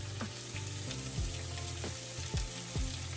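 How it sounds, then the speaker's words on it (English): Sweet onions frying in olive oil in a skillet, an even close sizzle with occasional soft stirring scrapes over it, steady and alone. "they're gonna release some juices in there. It's, you know, mixed with that olive oil, and it's gonna caramelize really nicely"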